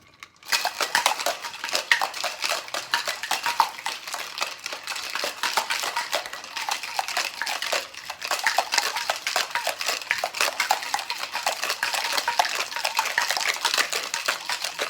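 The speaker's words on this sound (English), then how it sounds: "we are going to pop in ice in here and we're gonna give it a little bit of a shake" A cocktail is shaken with ice: a steady, loud rattle of ice against the shaker runs nearly the whole time, with one brief pause midway and no voices.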